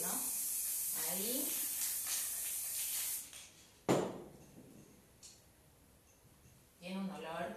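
Aerosol spray adhesive mists over a quilt sandwich during basting, with two short hissing bursts near the start and another later on, between quiet stretches and some handling noise.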